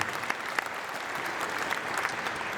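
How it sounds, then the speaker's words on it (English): Convention crowd applauding during the Anthrocon opening ceremonies, a large hall filled with steady clapping heard at a moderate distance, even and sustained across the moment. "Big round of applause for the Clipper Cruise Line."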